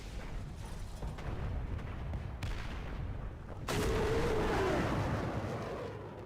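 Artillery shell impact in the tank combat game War Thunder, a sudden heavy blast about midway that swells into a loud, sustained rumbling roar over ongoing low battle noise, with no talk.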